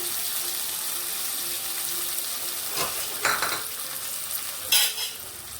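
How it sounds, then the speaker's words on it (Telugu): Stirring of country chicken curry with finely chopped coriander in a pan, a steady soft sizzle with a few louder scraping stirs near the end, heard close with no talking. "మళ్ళీ ఒకసారి కలుపుతామండి"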